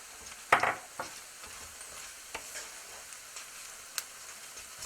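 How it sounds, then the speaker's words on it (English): A spoon stirs two cups of grated cheddar into a thick flour-thickened sauce for potato chip nachos, with a few soft, scattered scrapes and clicks over a quiet, hissy background. "So I'm going to stir in 2 cups of grated cheddar cheese"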